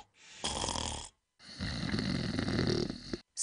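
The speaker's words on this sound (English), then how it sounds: "Snoring. It's not funny, and it's definitely not normal." Loud, close snoring in two long drawn breaths, each a rough rattling rumble with a short silent gap between, and no speech over it.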